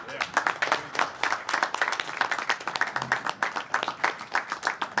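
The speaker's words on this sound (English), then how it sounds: "How about if we give a round of applause to the future of agriculture in Pennsylvania, huh?" A crowd at an agricultural event on a Pennsylvania farm gives a round of applause, with dense, steady clapping from many hands that holds through the whole stretch at fairly close range.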